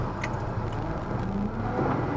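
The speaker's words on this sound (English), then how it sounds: "we're gonna dive that into the ditch, and then we're gonna reverse it and then come out of the ditch." A 1989 Honda Acty Street Realtime AWD kei mini van rumbles steadily as it drives down into a ditch, its engine a close, continuous whir with no voices.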